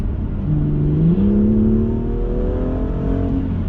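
A BMW M2 with an M Performance exhaust revs up close, its engine note rising and sweeping upward before settling into a sustained loud drone, with no talking over it.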